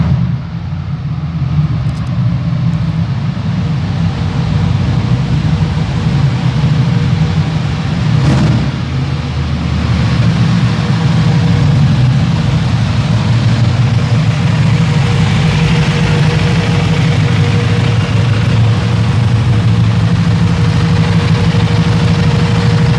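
A Buell motorcycle with a Rotax-designed engine runs at a steady idle, a loud, close, constant low rumble lasting the whole stretch with no speech.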